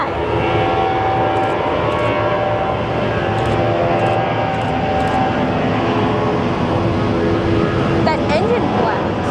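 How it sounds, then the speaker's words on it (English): Loud, steady roar of an airplane engine blast at Sky Harbor Airport, a dense sustained rumble filling the whole clip with a brief rising whine near the end. "That engine blast."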